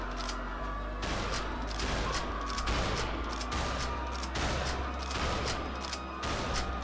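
Rapid bursts of video game gunfire repeat throughout a murder-themed game show, loud and dense, with broad crackling blasts layered over a steady low rumble.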